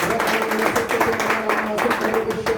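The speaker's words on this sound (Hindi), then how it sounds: "रब अभिषेक के तरह से जोरदार तालियां मारेंगे।" A church congregation claps loudly in a quick, rhythmic beat, with voices and music carrying over the clapping throughout.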